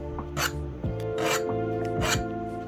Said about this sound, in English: And to finish off with a little bit more scratching out,